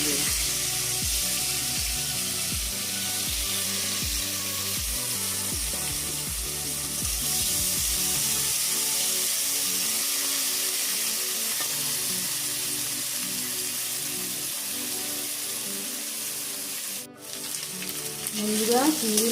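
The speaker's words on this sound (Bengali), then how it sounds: "চিংড়ি মাছগুলো ভেজে নেব।" Salt-and-turmeric-coated shrimp frying in hot oil in a wok give off a loud, continuous sizzle, with rhythmic clatter and stirring near the start.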